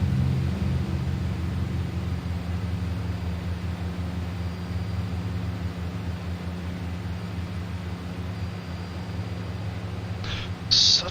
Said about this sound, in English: Again, the engines just sound a bit weird,